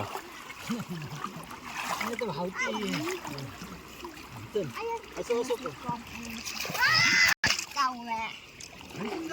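A child splashes water while swimming in a village river, with close, repeated splashes and splatters under loud talking and children's voices.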